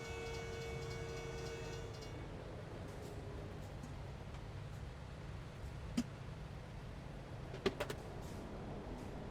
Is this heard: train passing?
yes